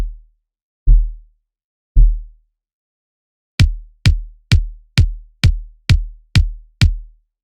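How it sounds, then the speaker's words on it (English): Deep, booming low pulses from a bass synth layered under a kick drum, two sparse hits and then a steady run of eight evenly spaced thumps, each a short punchy kick with a heavy bass tail. "they used a bass synth to create a very deep pulse that they put under the kick"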